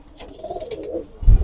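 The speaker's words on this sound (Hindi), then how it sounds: "बड़ा तगड़ा कबूतर है।" Pigeon cooing, from a purebred big-breeder pigeon: soft low murmuring calls with a louder, close coo near the end, with no talking over it.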